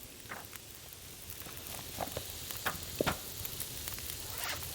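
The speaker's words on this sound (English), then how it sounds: "There's that lovely sizzle sound." Raw meat frying over a fire in the survival game The Long Dark, a continuous crackling sizzle with scattered sharper pops, steady and close with no talk.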